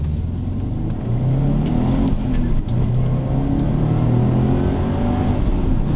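Subaru car accelerating hard on a racetrack, heard from inside with a steady, loud engine drone and low rumbling revs throughout, no speech.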